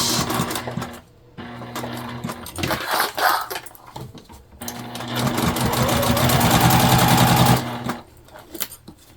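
A sewing machine back stitches a seam on a small crossbody bag with D-rings, its needle chattering in a steady, fast run for a few seconds after quieter handling sounds.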